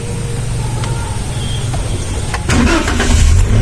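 A Toyota Avanza EFI engine is started, the steady loud background rising partway through as the motor catches and runs with a heavier low rumble.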